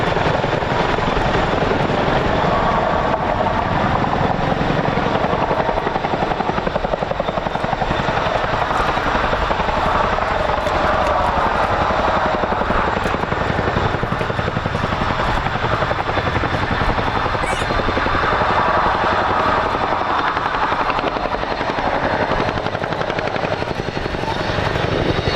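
A military helicopter at an air show hovers to drop off an underslung load, its loud, continuous rotor thrum and turbine whine steady and close throughout, with no talk over it.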